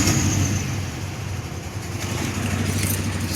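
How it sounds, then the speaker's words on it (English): A supercharged 2006 Pontiac Grand Prix after a cradle-drop drivetrain swap idles in a steady, low, even rumble, close and continuous with no revving. "still sitting here idling"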